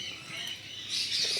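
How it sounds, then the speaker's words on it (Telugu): Fischer's lovebirds and other small parrots chirp at a zoo in Tirupati, a faint, busy wash of high twittering at a distance with no talking. "ఫిషర్స్ లవ్ బర్డ్స్ చాలా చిన్నగా ఉన్నాయి"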